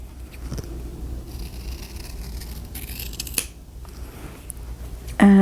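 Scissors trim the fabric seams of a lined doll coat, making quiet, crisp snips over faint background hum, with no voices.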